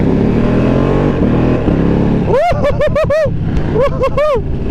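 A 2020 Ducati V2 motorcycle running loud and close, engine drone rising through a series of sharp rapid rev swells and quick-shifted gear changes in two bursts, with wind rush throughout and no talk.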